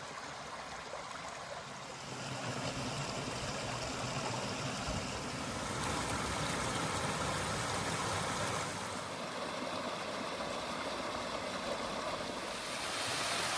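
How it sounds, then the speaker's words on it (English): Small waterfalls in a Peak District clough pour into plunge pools, a constant close rushing of water that swells slightly partway through and stays steady throughout. "Some lovely little, tiny little waterfalls with beautiful plunge pools."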